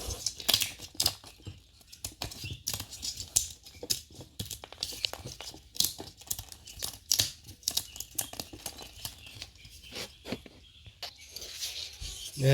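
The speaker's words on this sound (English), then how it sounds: "Then we'll clean that up with a chisel." Wood chisel paring away leftover ridges on cabinet door joinery, giving a run of quick, dry scraping and clicking strokes in an irregular rhythm, close and fairly quiet, with no talk.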